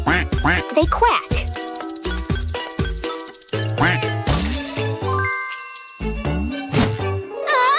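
Cartoon duck quacks sound in a children's animated farm-animal episode, short repeated honks mixed into loud, busy music with tinkling chimes and rising whistle-like effects.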